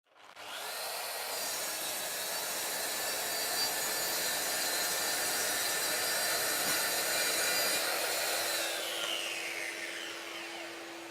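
A Mafell MT55 plunge saw cuts steadily through wood with a loud, continuous whine and rasp that holds for about ten seconds before easing off, with no talking.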